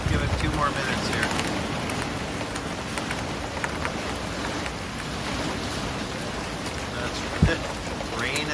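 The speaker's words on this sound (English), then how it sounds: "That's it. Rain and wind." Rain and wind in a storm over Thunder Bay, Ontario, a steady dense wash of rainfall and gusting noise that holds level throughout, with one brief sharp knock near the end.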